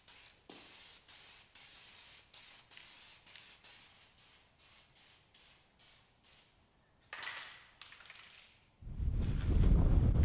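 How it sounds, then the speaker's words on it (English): Rattle-can spray paint hisses in a quick series of short bursts over freshly oil-wiped shop door parts, with longer sprays later and a loud rumbling clatter near the end. "I applied a couple coats with the rattle can"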